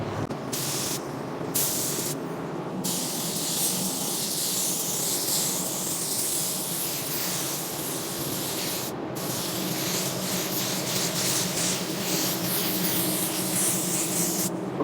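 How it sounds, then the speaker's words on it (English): A paint spray gun hisses in short pulses, then a long continuous spray with brief pauses, close and steady. "I'm gonna go ahead and get a coat on all of this, and then we'll go grab our Segola and spray some color"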